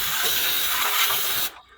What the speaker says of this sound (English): get some of that butter, spray it on the pan